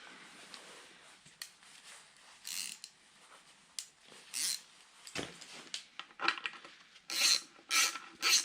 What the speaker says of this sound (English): I'm going to now tighten down all these bolts because this is going to self-align everything.